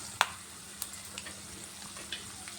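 Chana dal and mustard seeds fry in oil, a quiet steady sizzle punctuated by a sharp pop early on and a few smaller crackles and ticks spaced through the rest.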